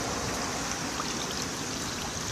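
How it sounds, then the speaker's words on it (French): A small waterfall pours into a pond in a park in Tahiti, a steady close rushing and splashing of water with no voices. "Ici, il y a la petite cascade."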